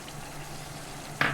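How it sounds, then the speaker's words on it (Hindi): Chicken liver frying with ginger and garlic in a pan, a low steady sizzle with a faint hum underneath and a short brighter spatter near the end, close and quiet. "5 मिनट हो गए थे अदरक लहसुन के साथ कलेजी को भूनते हुए"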